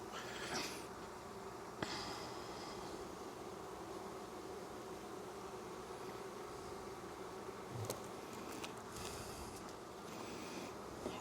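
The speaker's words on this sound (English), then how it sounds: "There's a lot of bees in here" Honeybees packed into a hive drone in a dense, unbroken buzz that holds steady throughout, up close with occasional sharper passes near the ear.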